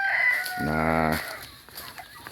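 Chickens and ducks on a farm field where hens lay and brood, with a rooster's loud nearby crow and clucking, while a person speaks briefly.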